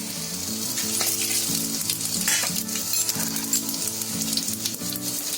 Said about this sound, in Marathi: थोडासा तेजपत्त्याचा पान आहे, 2 लवंग, पाव चमचा जिरा आणि थोडासा छोटासा दालचिनीचा तुकडा